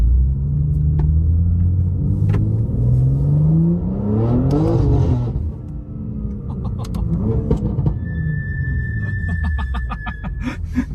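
A BMW G87 M2 with a Stage 2 tune accelerates hard, its engine note climbing through the revs in loud, sweeping rises and a brief shift dip, a continuous close roar that fills the whole stretch.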